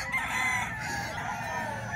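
A rooster crows nearby in a long, sustained call that fills the whole moment, with faint farmyard background beneath it and no speech.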